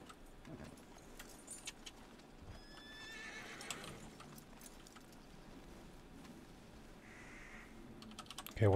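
Horse in the video game Red Dead Redemption 2: faint hoof clops and a quiet whinny under soft background game sounds.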